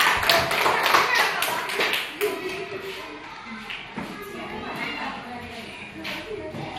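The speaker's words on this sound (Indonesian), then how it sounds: "tepuk tangan buat Laura." Classroom of students clapping for a classmate, a burst of many hands that is strongest in the first two seconds and then thins into scattered claps and shuffling, with children's voices underneath.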